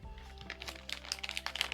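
A plastic bag holding old audio preamp parts crinkles faintly in a quiet workshop, with soft scattered rustles that grow busier toward the end over a low electrical hum.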